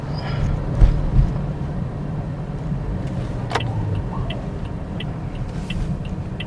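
A steady low engine hum drones inside a 2024 Toyota Vios, with a couple of soft thumps and faint ticking clicks over the constant rumble.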